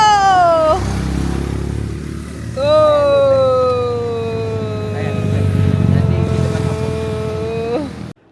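A new motorcycle ridden around Johor revs and pulls away, engine pitch climbing then settling into a steady near drone, with wind noise and a second rev-up later; a voice seems to talk briefly over it.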